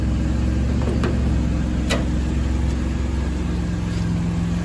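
A Chevrolet Camaro engine, restarted after more than ten years in storage, idles steadily with a low, smooth rumble close by, with a few faint clicks and knocks over the drone.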